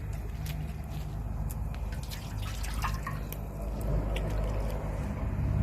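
Water trickles and drips into a cooking pot holding pork for a Shan-style jin moo dish, a close, soft splashing over a low rumbling background.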